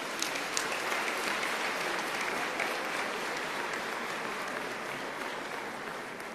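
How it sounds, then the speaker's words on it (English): Applause for the province's top matric achiever at a class of 2022 ceremony: a faint, distant audience clapping in a steady, even wash that slowly fades. "A big round of applause for Emma."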